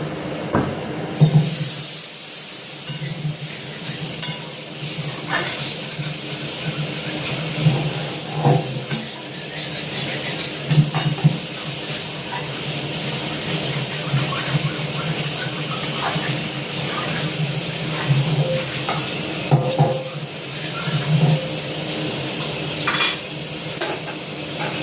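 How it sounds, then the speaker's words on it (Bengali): A karahi being rinsed and scrubbed with water in a home kitchen, with steady clatter and scraping of metal, light cutlery and pot knocks, and a continuous wet hiss running alone throughout. "তা কড়াইটা আমি একটু ধুয়ে নিই,"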